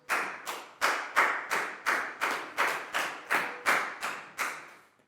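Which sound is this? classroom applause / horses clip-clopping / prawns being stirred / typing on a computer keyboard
classroom applause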